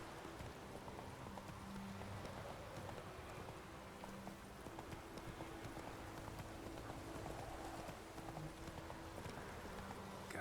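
A horse gallops in The Witcher 3 with a continuous rhythmic clip-clop of hooves, steady and moderately close, under a faint wash of wind and ambient game sound.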